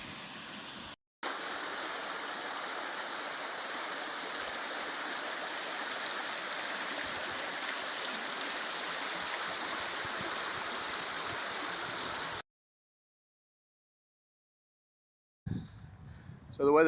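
Water rushes steadily through an old mill wheel pit in the Cheesden Valley near Heywood, Manchester, a loud, even hiss broken by a brief dropout and a long silence, then a short return.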